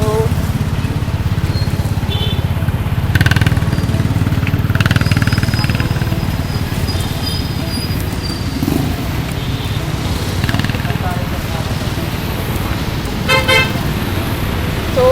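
Cars and motorcycles crawl through traffic at a quarantine checkpoint in Batasan, San Mateo, a steady loud engine rumble with a couple of brief horn toots, heard close from within the flow of vehicles.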